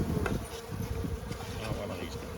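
Bees humming around an opened beehive during early-season feeding with sugar and pollen cake, a steady close buzzing drone with individual insects flying near, no talking.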